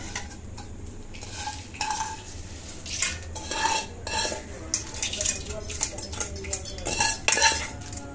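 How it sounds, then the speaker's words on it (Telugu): Gongura pickle being mixed after the tempering goes in, a spoon clinking and scraping repeatedly against a metal vessel in quick irregular strokes, close and clear with a faint sizzle underneath and no talking. "మొత్తం అంతా బాగా కలిసేలా కలుపుకోవాలి."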